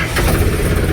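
A tractor engine runs after starting, a close, loud, steady low rumble at idle.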